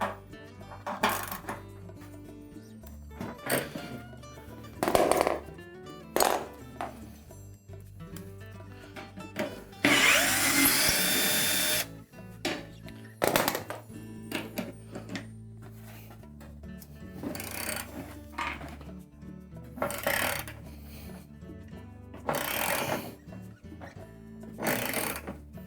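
Tub support bolts come out of a Whirlpool washer with intermittent metallic clanks, ratcheting and scraping taps, and one longer harsh grinding burst midway, spaced by quiet pauses.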